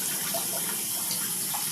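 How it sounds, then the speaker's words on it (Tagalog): Tap water runs steadily into a plastic drum, a continuous close hiss and splash with no talking. "kaya antay natin na mapuno itong tubig guys"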